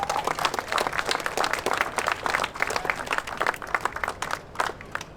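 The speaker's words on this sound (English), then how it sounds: "give yourselves a massive round of applause" A crowd at an outdoor charity tractor run claps and cheers in a dense, lively burst of applause that fills the whole stretch, loud and close, with no talking.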